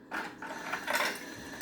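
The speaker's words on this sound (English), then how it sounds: "Then you roll the hand wheel to your side." Hand wheel of an electric sewing machine being rolled toward the operator, giving soft mechanical clicking and ratcheting over about a second and a half, close and fairly quiet.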